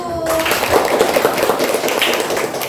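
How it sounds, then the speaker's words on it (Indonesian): A classroom of students clapping for a student group, a burst of fairly loud applause that starts right after a brief voice and carries on steadily. "Tepuk tangan buat kelompok 1"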